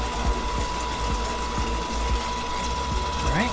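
Popcorn machine motor running steadily with a constant mechanical whir and rattle while peach popcorn begins to pop, faint irregular clicks and ticks scattered over the drone, fairly close and continuous throughout.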